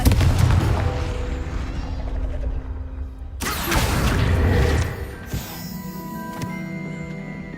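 Booming blast of the Confringo spell in Hogwarts Legacy, with heavy rumbling impacts, a sharp crash midway and ringing debris and mechanical after-sounds, no speech.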